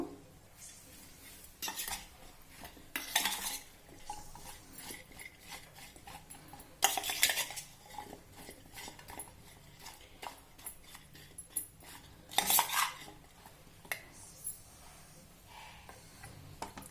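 Spoon stirring lemon juice into grated raw horseradish in a bowl, giving irregular clinks and scrapes of metal on dish with a few sharper knocks, close up and fairly quiet, with no talking.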